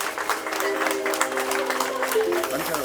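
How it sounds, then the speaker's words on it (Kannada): A launch-event audience applauds, the clapping dense and sustained throughout at moderate loudness, with a speaker's voice running over the top. "ಜೋರಾದ ಚಪ್ಪಾಳೆ ಬರಲಿ"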